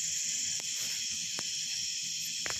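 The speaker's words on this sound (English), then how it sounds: "I'm listening to the crickets and the frogs." Night chorus of crickets and frogs outdoors under a clear sky: a continuous high insect trill held steady, with a few faint sharp clicks, fairly quiet and with no voices.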